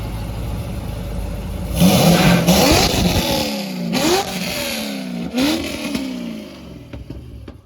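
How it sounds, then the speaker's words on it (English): A supercharged 2012 Chevrolet Corvette Z16 Grand Sport idles with a lumpy, choppy cam rhythm, broken by three sharp throttle blips that swell and fall away, loud and close. "As you can tell, at an idle, a little bit of a cam chop."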